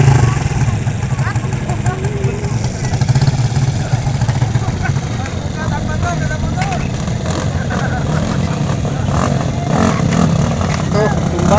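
Motorcycle engines running at a crowded street gathering, a steady mid-pitched engine drone that stays loud and continuous under lively crowd chatter and shouting.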